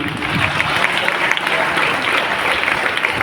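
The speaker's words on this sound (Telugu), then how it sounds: "గట్టిగా చప్పట్లు కొడదామా దేవునికి మహిమ" A church congregation claps loudly together in a dense, sustained burst of applause that lasts the whole short stretch.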